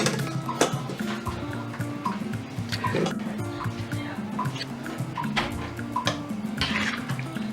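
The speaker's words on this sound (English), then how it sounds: "So after straining the cooked vegetable onto your fish" Cooked vegetables with their liquid strained onto fish for a fresh fish and vegetable soup, giving a steady close trickle with scattered drips and light clinks of utensils.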